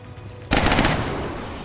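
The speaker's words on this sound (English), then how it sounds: "I'm gonna try a shot over here with the Desperado" A single loud, close gunshot from the Desperado weapon in the XCOM Long War strategy game, bursting sharply after a quiet stretch and tailing off into a lingering rumble, with no voices over it.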